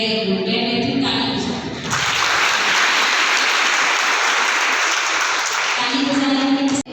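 Sustained loud applause from a seated audience at a spiritual life-skills program session in an institute hall, dense rapid clapping filling nearly the whole span, rising fuller after the first two seconds and cutting off abruptly at the end.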